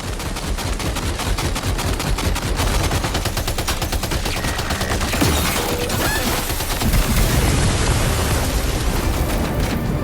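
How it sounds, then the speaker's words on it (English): Sustained rapid gunfire from the video game Death Stranding 2 fills the whole stretch, loud and dense automatic bursts with heavy booms layered in and no pause. "Opening fire."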